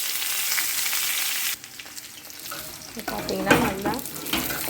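Raw banana sautéing in hot oil, a loud hiss at first that drops and then builds again with stirring, under a voice speaking.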